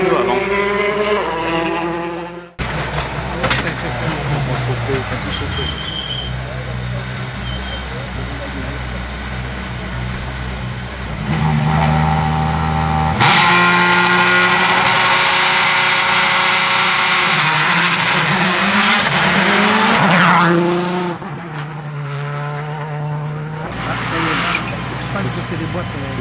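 Rally cars at full throttle on a Rallye Monte-Carlo stage in the Ardèche, engines revving hard and shifting through gears as they pass close by, with a loud burst midway and spectators talking throughout.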